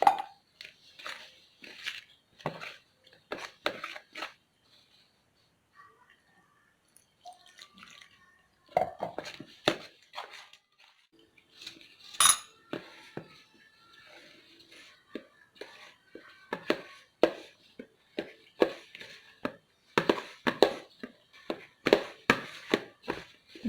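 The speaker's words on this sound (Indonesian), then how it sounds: "Cuman ini saya campur dulu air dengan tepungnya." Water and flour mixed in a bowl for bakpao dough make soft, irregular wet slaps and clicks with drips, close and quiet, with pauses between bursts and no speech.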